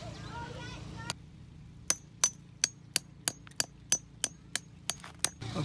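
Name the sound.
hammering metal stakes into solid ground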